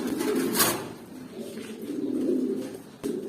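A young adult pigeon kept in a pigeon loft coos close by in low, throaty, repeated phrases, with a soft rustle and a brief sharp knock toward the end.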